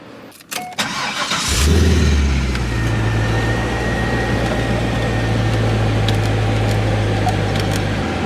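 A stock Chevrolet Corvette's GM V8 with 415,000 miles cranks and starts, then settles into a steady, loud, close idle with a deep low hum and no talking.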